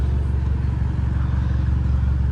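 A BMW 330i with a Stage 2 tune and full bolt-ons, cruising at night, its engine a steady low drone with a pulsing rumble and road noise, loud and close from inside the cabin.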